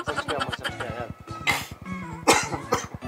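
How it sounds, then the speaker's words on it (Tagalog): A person coughs in several sharp, loud bursts spaced through the moment, with voiced throat sounds and murmuring in between. "ubo na ako."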